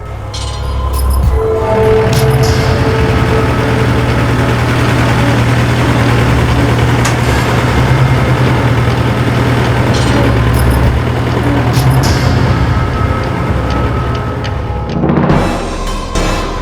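A red farm tractor's engine runs steadily at close range, a continuous low rumbling drone lasting the whole stretch with no break, loud and even throughout.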